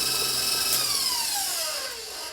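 An electric mixer whirs through cake batter for a Boston cream pie, a steady high-pitched motor drone with a pitch that slowly glides downward as it runs alone for a couple of seconds.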